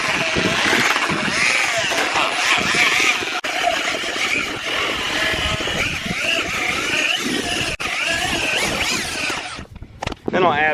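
A paddle mixer churns mortar mix and water in a bucket while laying concrete block, producing a continuous loud, close grinding motor drone with rough churning texture, and a voice is heard briefly over it.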